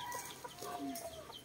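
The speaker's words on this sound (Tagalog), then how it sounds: "Chickens, there's chickens." Hens clucking nearby on a rural mountain property in the province, a few short soft clucks and murmurs over quiet outdoor ambience.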